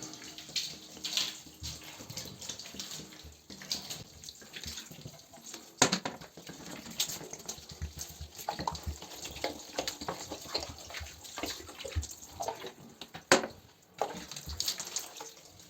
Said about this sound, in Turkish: Pet şişeyle güzelce bolca durulacağım.